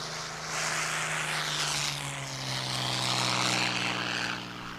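Spitfire fighter aircraft with a steady, droning piston engine and propeller, held at a fairly loud level throughout with a slight swell in the middle, heard alone with no talk.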